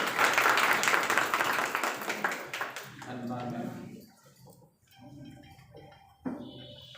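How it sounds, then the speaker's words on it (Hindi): An auditorium audience at a literary, art and culture memorial and felicitation ceremony breaks into dense, steady clapping that fades after a few seconds. Talk then takes over, with scattered sounds beneath it. "एक बार ताली बजा दीजिए।"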